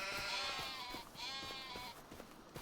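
Sheep bleating in Farming Simulator 25, two drawn-out bleats close by, one after the other, with soft low background noise and faint taps.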